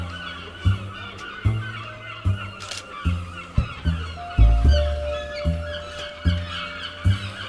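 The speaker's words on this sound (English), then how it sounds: "What's going on with the seagulls?" Seagulls calling over a street in Faversham, a rapid series of loud, honking cries repeating roughly every half second to second, close by, with faint background street noise and no talking.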